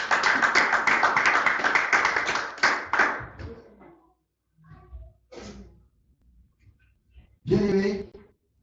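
A church congregation bursts into dense, sustained applause that tapers off after about three seconds, followed by scattered claps, quiet movement and a short spoken voice.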